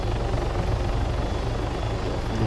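A helicopter landing near a house on a military operation gives a loud, close, continuous rotor and engine roar that stays steady throughout, with no talk.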